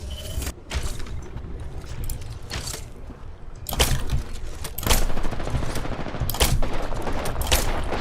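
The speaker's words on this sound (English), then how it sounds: "I am taking fire, friends." Video game gunfire erupts in bursts of sharp shots and rapid automatic volleys, with short pauses between, growing denser and louder in the second half.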